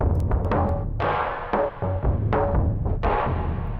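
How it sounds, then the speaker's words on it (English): A dense, driving trip hop percussion loop with sharp hits layered over a steady low rumble, loud and continuous throughout. "let's bring the other percussion loop in."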